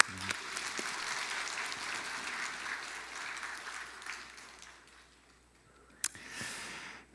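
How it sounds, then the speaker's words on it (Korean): A church congregation applauds one another at a Sunday morning worship service, steady clapping that gradually fades out, followed by a brief sharp knock and a short rustle at the end. "박수 한번 서로 보고 칠까요?"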